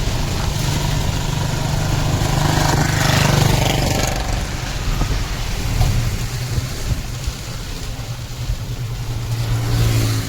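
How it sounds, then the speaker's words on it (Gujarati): Heavy out-of-season rain pours down in a dense, loud roar, with deep thunder rumbling through it and a passing vehicle's engine adding to the low din. "વીજળીને જોવો તમે કઈ ઓછો વરસાદ નથી થતો જોવો તમે"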